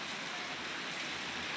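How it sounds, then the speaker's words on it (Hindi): Heavy sudden rain pours down in a dense, steady roar of drops on surfaces, continuous and fairly close, with no voices. "गाइस, तो इतनी खतरनाक बारिश आ रही है।"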